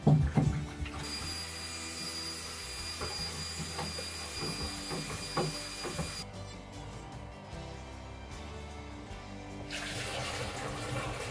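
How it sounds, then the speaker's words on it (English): A spoon stirs kiwi mead in a wide-mouth fermenter, making a near, steady swishing and churning of liquid with light clicks and knocks against the vessel. "I can get my spoon in and give it a good stir"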